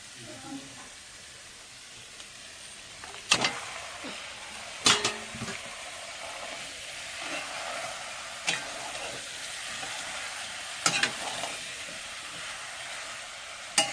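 Meat cooking in a pan of onion, garlic and ginger paste with turmeric and salt, a low continuous sizzle broken by several sharp clanks and scrapes of the stirring spoon against the pot.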